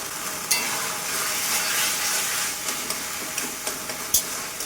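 Taro leaves (kochu shak) with salt, turmeric and green chilli being stirred and fried in a pan, a steady close sizzle with scattered spoon scrapes and clicks throughout.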